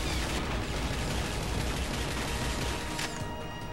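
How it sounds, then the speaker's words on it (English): Turret gunfire in the video game Chronicles of Riddick: Escape from Butcher Bay, a loud, dense, continuous barrage of rapid shots filling the whole stretch without a break. "I don't know if that's a turret shooting me or what"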